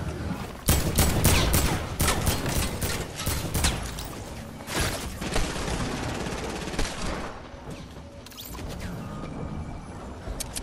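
Heavy assault rifle fired in a video game, rapid bursts and single shots cracking loudly and close in dense clusters, then thinning to sparser shots and mechanical clatter toward the end.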